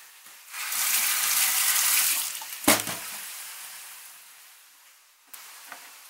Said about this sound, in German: dann waschen wir die Kartoffeln